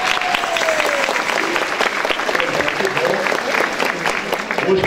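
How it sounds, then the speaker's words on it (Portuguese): Audience applause at a state gathering of church base communities in Minas Gerais, a dense steady wash of clapping sustained across the whole stretch, fairly close and loud, with a speaking voice faintly over it. "Palmas para o Franquinho e a Sônia."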